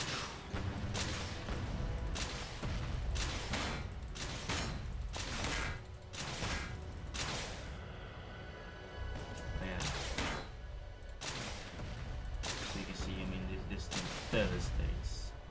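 Missile weapons firing in the Space Engineers game, a run of loud, sharp bursts and blasts at irregular intervals, with someone talking over them.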